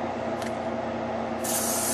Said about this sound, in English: Let's give it a nice little spray.